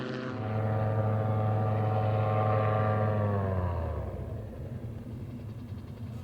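A GBA Sparrowhawk recreational gyroplane flies past at an air show, its engine a loud steady droning buzz with strong rotor harmonics that falls in pitch and fades as it moves away.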